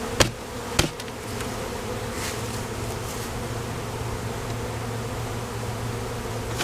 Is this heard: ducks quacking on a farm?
no